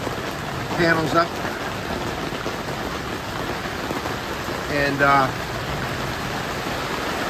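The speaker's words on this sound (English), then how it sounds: "as you can hear, it's coming down pretty good" Heavy rain pours steadily onto a Vevor gazebo with its side panels up, a dense even hiss throughout, while someone talks briefly over it twice.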